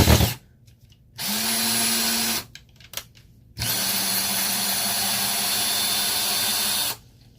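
A Ryobi power drill driving a screw, whirring loudly in two sustained bursts of about one and three seconds with short pauses between, close by and with no talk.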